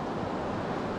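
The Kali Gandaki river in Nepal rushing past, a steady, broad roar of water mixed with wind buffeting the microphone, continuous and fairly loud without any speech.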